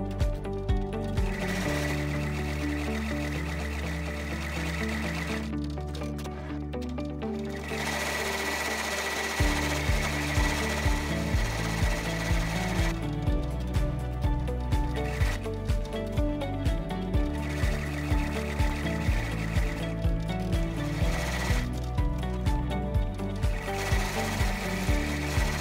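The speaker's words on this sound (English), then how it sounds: "We can now finish running the embroidery design on the patch." An embroidery machine stitches a patch design, with rapid rhythmic needle clatter in repeated bursts and short pauses between color runs, close and steady with no voices.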